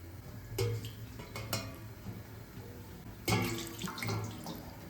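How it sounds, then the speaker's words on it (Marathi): Water is poured into a plate set on top of a pressure cooker lid while mutton gravy cooks, heard up close as splashing and trickling with sharp metallic clinks in two main bursts, the second louder, over a steady low hum. "आता ही प्लेट वरती ठेवली, याच्यातच पाणी ओतायचं"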